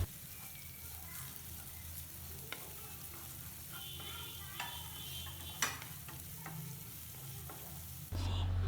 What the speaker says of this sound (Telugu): పచ్చిమిరపకాయ ముక్కలు వేసి వేయించాలి.